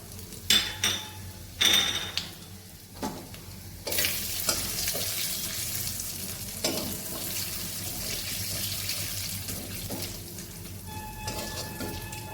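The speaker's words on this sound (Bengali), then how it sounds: "একটু মশলাটা ভাজা ভাজা হোক" Whole spices such as bay leaf, clove, cinnamon, cardamom and cumin crackle and fry in oil in a pan, a steady close sizzle with a few sharp bursts and scrapes early on.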